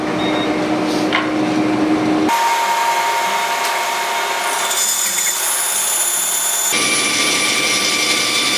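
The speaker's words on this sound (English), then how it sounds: "and then I'm going to cut this little section out." A power saw cuts through a half-inch thick, 3.5-inch wide engineered square-edge stair nosing, a loud, continuous whine and grind at close range whose pitch shifts as the blade works, with no talk.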